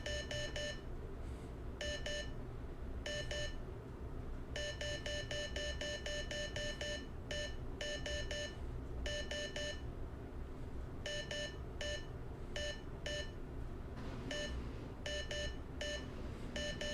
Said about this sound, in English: listen to how it's like sometimes lots of beeps and sometimes fewer beeps.